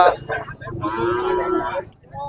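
At a livestock market, a cow lets out a single drawn-out, loud moo, close by, with a brief lowing sound at the start.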